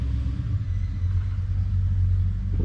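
A big block Ford car engine rumbles at idle, a deep, steady low throb heard fairly close, with no talking over it.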